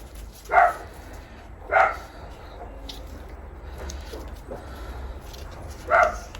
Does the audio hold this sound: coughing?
no